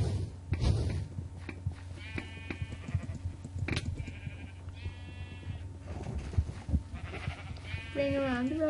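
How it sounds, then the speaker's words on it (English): Sheep bleat several times in the Minecraft video game, wavering cries scattered among game clicks and thuds, with a player talking over them. "I'm hitting the sheep. I like hitting sheep."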